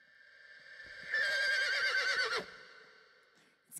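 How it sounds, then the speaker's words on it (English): A horse-like whinny plays back from a video, one loud quavering neigh of about a second and a half over faint background noise, with no talk. "It just sounds like a horse."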